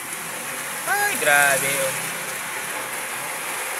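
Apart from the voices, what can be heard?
heavy rain pouring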